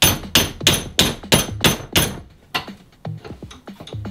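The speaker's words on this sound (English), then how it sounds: "I have very little confidence that I can break it with a hammer" A hammer strikes a TPU 98A 3D print clamped in a vise, close and loud, with about six hard blows at a steady rhythm followed by several lighter, quicker taps.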